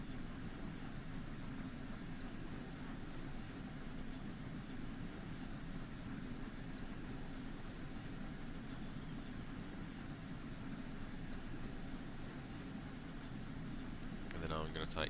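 A train rumbles along a main line in the Train Sim World 4 railway game, creeping at restricted speed: a faint, steady low rumble throughout, with a brief brighter burst of noise right at the end.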